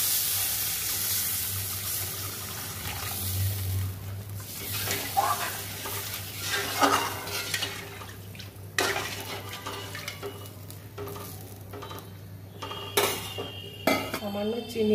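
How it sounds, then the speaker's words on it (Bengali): Pot of spiced Bengali fish curry with water being added, a close clatter of metal utensils against the pot over steady sizzling, with scraping, stirring and splashes, and a few sharp knocks toward the end. "মশলাটা কষা হয়ে গেছে, তেল বেরিয়ে গেছে। আমি জল দিয়ে দেবো, পরিমাণ মতো ঝোল দিয়ে দিচ্ছি।"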